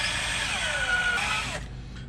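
A power drill whines steadily for about a second and a half drilling into a stainless steel bolt on a 1992 Johnson 25 hp outboard motor, its pitch sliding downward, then winds down and stops.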